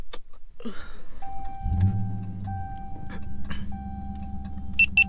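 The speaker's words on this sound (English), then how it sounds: "Starting the car." A car engine cranks and starts with a low rumble after a short chime, then settles into a steady idle beneath repeated electronic beeps and tones from the dashboard and a radar detector.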